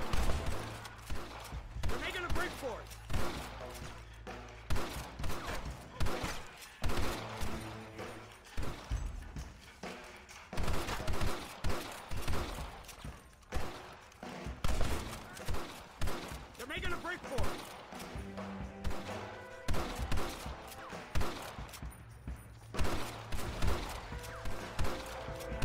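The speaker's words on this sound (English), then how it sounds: "You guys are opening fire, but like not seeing anyone getting hit" Gunfire breaks out in Red Dead Redemption during a shootout at a door, with scattered sharp shots and bursts spread unevenly over a busy mix of music and game noise. Someone talks over much of it.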